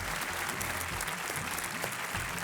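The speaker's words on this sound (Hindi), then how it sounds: "तालियों के साथ इनका स्वागत सर।" A studio audience on the quiz show Kaun Banega Crorepati applauds a contestant's welcome, a dense, continuous roar of clapping with no pauses.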